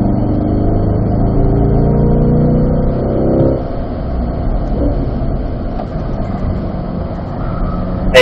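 Race car engine held high in the revs, a loud steady harmonic roar that drops off sharply partway through as the throttle lifts, then a rougher lower drone continues.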